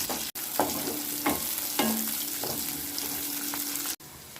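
Onions tipped into hot oil spiced with cinnamon sizzle steadily in the pan, with a few stirring scrapes and clinks, close and alone without talk.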